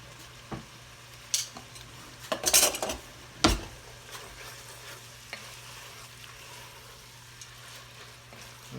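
Tomatoes, including Rotel and diced, are tipped into a pot of old-school venison chili and stirred, with metal utensil clinks and scrapes against the pot, a few louder clatters in a cluster, and a faint sizzle underneath, with no talk.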